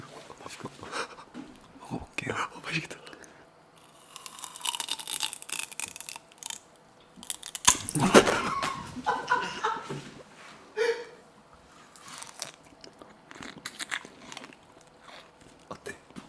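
Raw sugarcane is bitten and chewed close to the microphone, with intermittent crunches, tearing bites and wet chewing, mixed with quiet voices talking and laughing at intervals.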